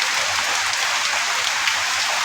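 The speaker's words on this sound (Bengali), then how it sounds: "অনেক জোরে বৃষ্টি হইতেছে, অনেক জোরে বাতাস বৃষ্টির সঙ্গে হইতেছে।" Heavy rain with strong wind pours down in a dense, even roar of drops hitting surfaces, loud and continuous with no voices.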